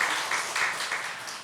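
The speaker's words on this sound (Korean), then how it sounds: "우리 환영의 박수 한번 합시다." A church congregation at a Sunday morning service claps to welcome a new evangelist, a short burst of dense, fairly soft applause that swells in waves and fades slightly.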